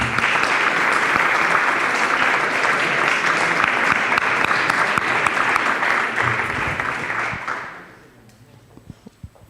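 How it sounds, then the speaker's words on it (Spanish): Audience applause for the speakers at an environmental forum, a full dense clapping wash that holds steady for several seconds, then fades to a few scattered claps and quiet room noise. "le damos un fuerte aplauso a los expositores"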